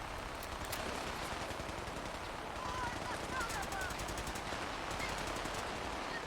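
Rapid automatic gunfire rattles in Fallout 4 combat, steady and fairly loud throughout, with bursts of clustered shots over continuous game noise and a voice talking now and then.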